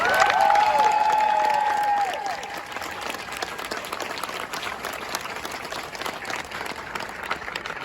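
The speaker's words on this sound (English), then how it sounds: "Ladies and gentlemen, please join me in a round of applause for the company staff of Company T." Loud crowd applause at a Marine Corps graduation ceremony, with some cheering and whistles over the clapping near the start before it settles into steady clapping.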